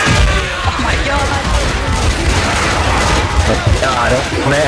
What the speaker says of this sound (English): I protected you with an explosion.